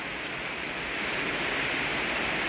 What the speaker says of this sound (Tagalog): Basa tayo sa ulan.